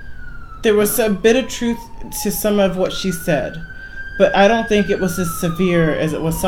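A police-style siren wails past outside, its pitch sliding down as it goes by and rising again, heard behind someone talking steadily close to the microphone.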